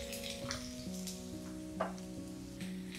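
Chopped onion sizzles steadily in a hot pan for potato soup, a soft continuous hiss running beneath background music with a few faint stirring clicks.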